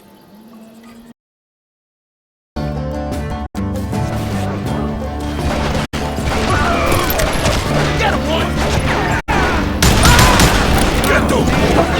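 Gunfire in Call of Juarez: Gunslinger as old feuds in Kansas erupt, dense shots and booms layered over dramatic music after a brief silence, with sharp cuts between bursts and voices shouting.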